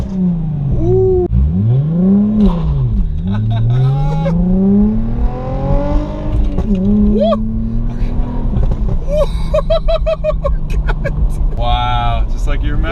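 A Mercedes C300 revs and pulls hard from a launch, engine note rising and falling through sweeping pitch changes, loud and close, with excited voices and cheering over it and a quick downshift near the end.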